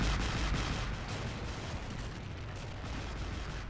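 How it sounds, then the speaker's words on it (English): Dense, continuous battlefield barrage from Men of War: Assault Squad, with rolling artillery fire and booming explosions layered into a loud, unbroken rumble that never lets up. "Oh, look at that massive explosion back there."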